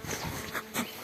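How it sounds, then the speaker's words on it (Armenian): A bee buzzes briefly nearby, a fluctuating insect drone that swells and fades over about a second. "մեղուն"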